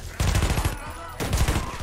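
A grenade blast in the Warface shooter game, delivered as a rapid burst of loud, close booms and crackles that fade briefly and then flare again, with no talk over it.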